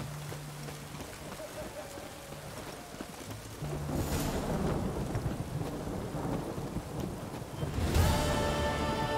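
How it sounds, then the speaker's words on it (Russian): Steady rain with rolling thunder in The Witcher 3, a broad hiss of downpour building louder midway, with a heavy thunder crack near the end over a low rumble. "Дождь не планирует заканчиваться, да?"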